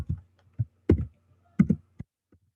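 Computer keystrokes for an HTML table tag, a handful of separate soft taps and thunks with gaps between, close and quiet, no talking.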